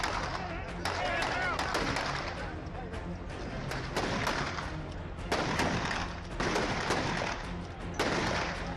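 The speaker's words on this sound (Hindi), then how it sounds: "वो चाचा की शह पर दनादन गोलियां दागने लगता है" Rapid gunfire from a loaded gun at a wedding, bursts of sharp shots repeating through the whole stretch amid crowd noise and voices, loud and close.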